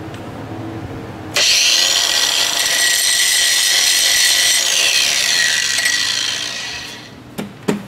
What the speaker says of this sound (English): after I grind this, I can chase the threads with this